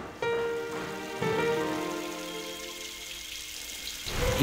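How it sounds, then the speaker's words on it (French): Rain falls in a steady, even hiss, while sustained humming tones sound over it for several seconds. "Il pleut."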